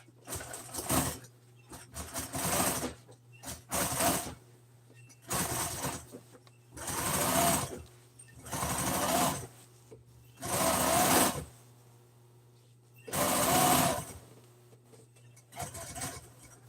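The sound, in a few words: sewing machine stitching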